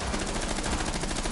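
Gatling gun in Rainbow Six Siege firing a rapid, unbroken burst, loud and close, each shot blurring into a dense rattling roar, no talk.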